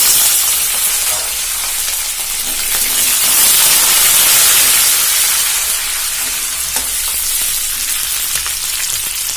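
Green chilies and curry leaves sizzle loudly in hot oil in a pan with browned peanuts while making kanda poha, a continuous close, bright frying hiss that swells slightly midway and keeps going without pause.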